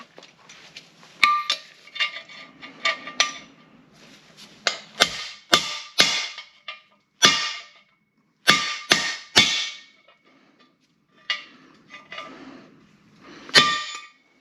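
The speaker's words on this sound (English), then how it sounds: "Input shaft bearing race, diff bearing race, hammer time." Sharp metallic hammer strikes ring out in uneven bursts, some in quick succession, with quieter clinks between, close and loud, as bearing races are driven into a 6-speed transmission's input shaft and differential.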